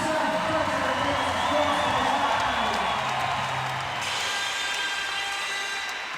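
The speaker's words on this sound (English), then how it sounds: "As the crowd gets behind our final finisher on day number 2" A crowd cheers for the final finisher of a women's fitness competition heat, a continuous loud roar of voices and whoops that stays steady throughout.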